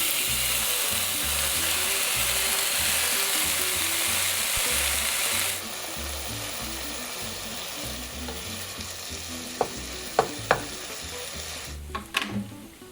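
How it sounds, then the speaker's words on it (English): Bacon rendering in a pan for Zuppa Toscana soup, a loud steady crackling sizzle that drops to a softer fry partway through, with a few sharp clicks and scrapes of utensils near the end. "Render the bacon until it's crispy"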